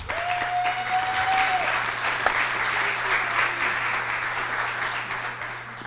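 A live audience at a talks event applauds steadily, a dense wash of clapping that holds loud and even from start to finish, with a brief tonal squeal near the beginning.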